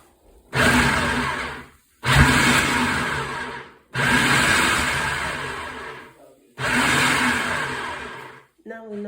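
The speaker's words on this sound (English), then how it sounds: "I'm just going to blend this in my food processor" Food processor blending roasted peppers and tomatoes for a Nigerian garden egg sauce: four loud whirring bursts of a few seconds each, separated by brief pauses, with a short clatter at the end.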